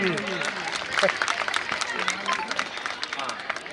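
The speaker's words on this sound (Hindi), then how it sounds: "जोरदार ताली बजाइए" An award ceremony audience gives brisk applause, many hands clapping in a dense, crackling burst with voices mixed in underneath.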